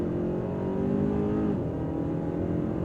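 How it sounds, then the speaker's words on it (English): A 2024 Hyundai Sonata N Line engine strains hard from a launch-control start, a loud, continuous rising drone from inside the car with a brief dip midway. "Then I hold my foot on the brake, pin the throttle. I can set the RPM for launch."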